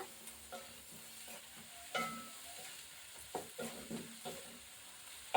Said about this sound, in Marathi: मसाले आपण छान परतून घेऊया